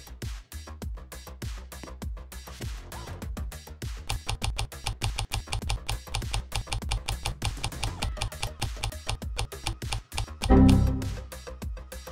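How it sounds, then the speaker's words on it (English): Rapid key clicks from a computer keyboard in the Roblox game Find The Markers, a steady run of sharp taps lasting throughout, close and fairly quiet, with a louder thump near the end. "Keep clicking on the keyboard and then jump onto it."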